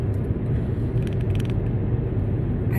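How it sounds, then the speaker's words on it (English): A camera stand rattles and creaks inside a moving car, steady mechanical clicking over a constant low road rumble, close and continuous with no talking. "That rattling sound you hear is the camera stand that I have on right now."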